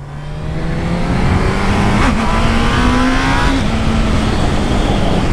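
A new motorcycle carrying a passenger accelerates along the road, its loud engine note climbing steadily with throttle and then holding a strong, continuous drone through the whole stretch.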